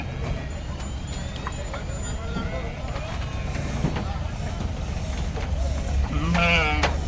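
Sheep bleat while being unloaded from a van, a few calls rising out of constant bustle and shuffling, with one louder bleat near the end; people talk throughout.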